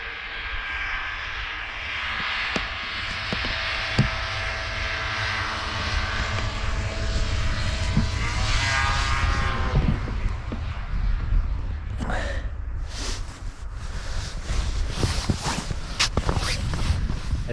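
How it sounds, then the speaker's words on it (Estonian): Engine drone from snowmobiles on frozen Lake Viljandi builds to a loud roar as the machines pass close, then fades, followed by scattered thumps and crunching on the ice. "siit tulevad siis seltsimehed saanidega, kuigi Viljandi järve peal on näete mootorsõidukitega liikumine keelatud"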